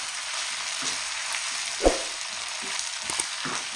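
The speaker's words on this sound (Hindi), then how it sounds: "अब इसकी अच्छी तरह भुनाई करते हैं, 1 मिनट करनी है बस।" Macaroni with ketchup frying in a pan, a steady moderate sizzle under a few soft scraping stirs and one sharper knock of the spoon against the pan midway.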